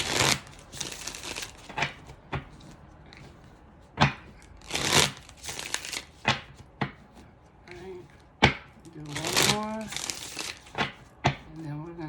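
Witch's Tarot cards shuffled and handled in a series of crisp papery riffles and crinkles, bursts scattered throughout, with a voice talking intermittently over the card noise.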